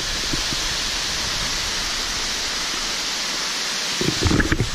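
Twin Sister Falls runs high with water, a loud, steady, close roar that fills the scene without a break, and a few brief knocks near the end.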